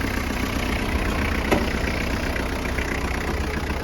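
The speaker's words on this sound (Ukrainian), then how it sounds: "Взагалі без зауважень, без шуму, гарно, плавно працює ґрунтофреза" Kubota GT-3 mini tractor engine running steadily with a rotary tiller attached, a close, continuous even drone with one brief clatter partway through.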